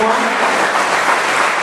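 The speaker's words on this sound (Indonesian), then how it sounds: "Berikan tepuk tangan kepada Anda semua." Audience at an evening church worship gathering applauding, a dense, steady wash of clapping lasting under two seconds, fairly loud and close.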